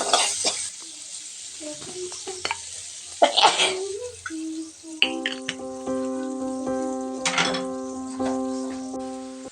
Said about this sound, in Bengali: তখন কিন্তু পেঁয়াজ আর রসুন কুচিটা দিয়ে দিব। তো দিয়ে হালকা ব্রাউন ব্রাউন করে ভেজে নিব তেলের মধ্যে।